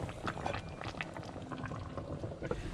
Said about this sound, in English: I'm gonna let this simmer for like 30 to 35 minutes